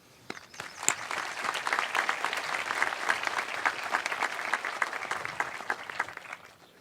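At a Triton High School graduation, an audience applauds the school's support staff: dense, sustained clapping from many hands that swells quickly, holds steady, then tapers off, with no talking over it.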